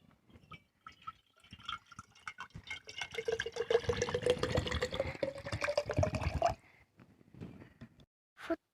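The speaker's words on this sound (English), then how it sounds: "Pour water." Water pours into a plastic water bottle, a rising gurgling fill that climbs in pitch for a few seconds, framed by a few faint handling clicks before and after.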